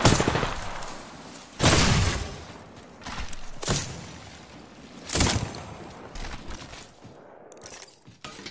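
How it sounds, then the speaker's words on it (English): Enemy gunfire in a shooter video game comes in several loud, separate bursts spaced a second or two apart. A quieter rumble of game sound fills the gaps. "The enemies are shooting at me."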